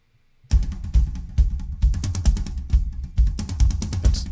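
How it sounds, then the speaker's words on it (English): Unequalized drum tracks from a rock song, starting after a brief silence and continuing as loud, punchy kick, tom and cymbal hits in a driving rhythm. "So the drums themselves."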